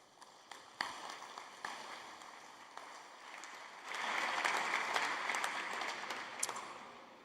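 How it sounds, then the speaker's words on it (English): An audience at a World Blindness Summit applauds award winners, quietly overall. A few scattered claps build into fuller, steadier clapping halfway through, which then tapers near the end. "Can we please give a round of applause to all of the winners?"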